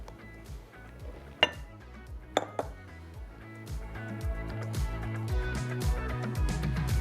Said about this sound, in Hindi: बस मिलाते जाएँ और थोड़ा थोड़ा मैदा शामिल करते जाएँ।